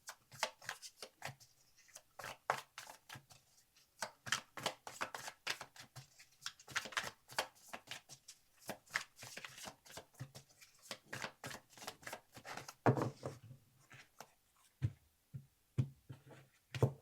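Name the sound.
shuffling tarot cards for a four-card reading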